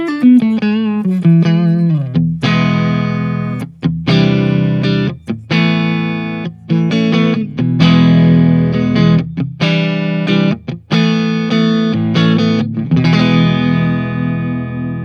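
Electric guitar played through a Tone King Royalist amp on a clean, Plexi-like setting with no compression, ringing out in sustained chords and single notes with brief pauses, loud and close for the whole stretch.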